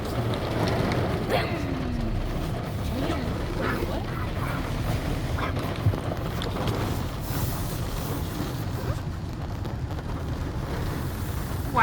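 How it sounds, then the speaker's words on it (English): Rain during a thunderstorm heard from inside a moving car, a steady broadband wash of rain and road noise with occasional sharper hits and faint voices underneath. "Now it's raining too."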